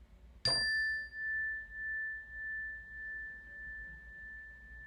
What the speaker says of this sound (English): Noticing how the sound of the bell changes moment by moment, and letting our awareness just follow the sound until it fades out completely.